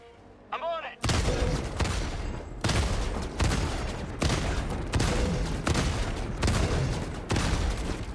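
Rapid bursts of gunfire from shooting a connector in Helldivers 2, loud and close, arriving as repeated dense volleys about every second after a brief quieter moment with a short whistling sound.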